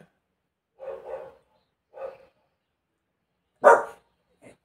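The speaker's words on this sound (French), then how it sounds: "Toujours les mêmes chiens qu'aboient, c'est casse-pieds." Dogs barking in a few separate bursts, with a louder, sharper bark near the end and short pauses of quiet between them, heard at moderate distance without any talk over them.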